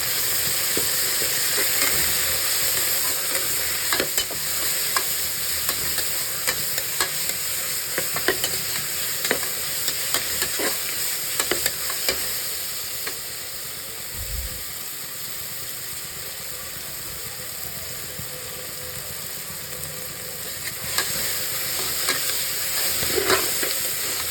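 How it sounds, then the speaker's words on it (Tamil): Biryani ingredients including mint and coriander are sautéed in a pan with a steady sizzling hiss, punctuated by intermittent stirring scrapes and clicks throughout, with no talk. "இது எல்லாத்தையும் நம்ம நல்லா வந்து வதக்கிக்கலாம்"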